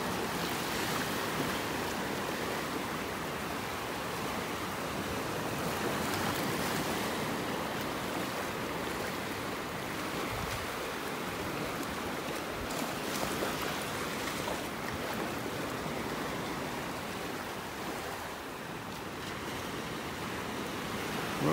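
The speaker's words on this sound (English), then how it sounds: "Boy, listen to those waves." Ocean surf breaks continuously on a beach in North Naples, Florida, a broad, steady wash of waves with gentle swells in loudness, heard up close with no talking.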